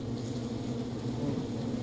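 Domestic honeybees foraging for pollen and nectar hum in a steady, low drone, a close and continuous buzz with no voices.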